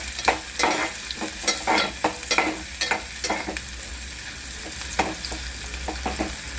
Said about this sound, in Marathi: आता आपण त्यामुळे पॅनमध्ये त्याच पॅनमध्ये आपण कांदा घालून घेतो